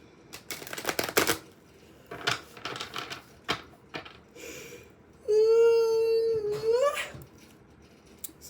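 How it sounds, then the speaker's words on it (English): A deck of playing cards being shuffled by hand in a quiet room, giving several quick riffling bursts with short pauses between them, fairly close and soft, followed by a sustained tonal sound. "I did shuffle them off camera, but I think I want to shuffle them 3 more times again."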